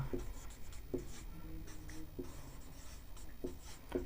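Pen or chalk writing out maths equations for a Class 10 lesson, a steady scratchy scrawl with several sharper taps and strokes through the stretch, fairly close and alone with no talk.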